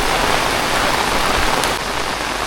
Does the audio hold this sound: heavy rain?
yes